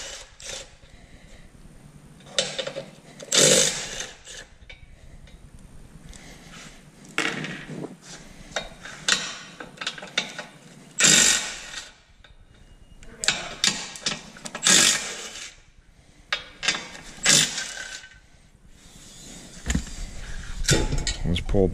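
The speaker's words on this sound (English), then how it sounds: "Need an extension to reach in and save the nuts because you're gonna reuse those" Ratchet with an extension removing bumper nuts during a trailer hitch install, with irregular bursts of metallic clicking and clanks, close by, separated by quieter gaps.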